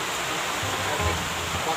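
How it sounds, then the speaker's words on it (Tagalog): Strong rushing water, a loud continuous broadband roar like a fast torrent, heard up close and steady throughout with no breaks. "Ang kusog ng tubig mga katsuyans, lakas."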